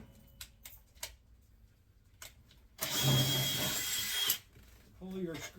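A Phillips-head power driver backing screws out of a cardboard box for unboxing, a loud whirring burst of about a second and a half after some handling knocks, heard close, with a voice speaking briefly near the end.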